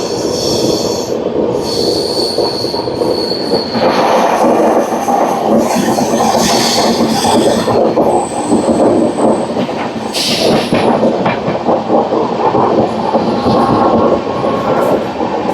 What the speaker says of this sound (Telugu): చిత్తాపూర్ వెళ్ళే మెమో ఇది.